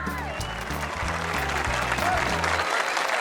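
A studio audience claps for a competing team during a celebrity farming championship, the dense patter of many hands filling the room under steady background music with low rhythmic tones.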